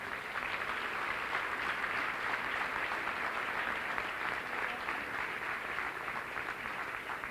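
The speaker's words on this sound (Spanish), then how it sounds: "Dale un aplauso al Señor este día" A church congregation applauds together during a Spanish-language sermon, a dense, steady roar of clapping that holds at an even level throughout, with no voices rising above it.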